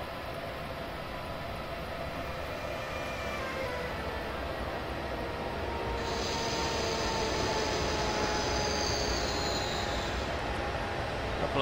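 An MRCE ES64U2 electric locomotive in Train Simulator 2015 runs steadily on the Ruhr-Sieg line. A continuous broadband rolling roar and hum carries faint tonal whines and grows slightly louder midway through, with no talk.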